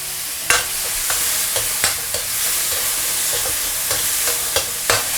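Meat stir-fried in a wok sizzles steadily while Sichuan pepper wine and dark soy go in along the edge, with sharp spatula scrapes and clacks every second or so.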